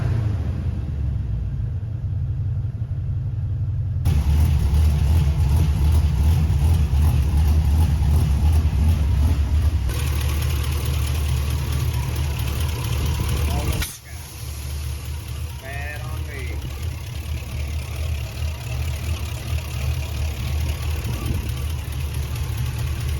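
A square body truck engine idles low at around 600 RPM with a steady, close rumble that holds throughout, briefly dipping once midway.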